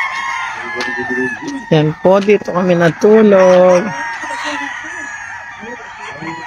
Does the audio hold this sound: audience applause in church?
no